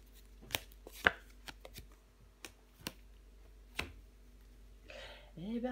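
Tarot cards laid down on a table, a series of soft, sharp taps and slaps spaced irregularly, close and quiet, with a voice starting at the end.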